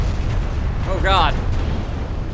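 A warship takes a big torpedo hit in the naval game Ultimate Admiral Dreadnoughts, giving a heavy rumbling explosion with a brief sharp metallic burst over continuous low battle noise.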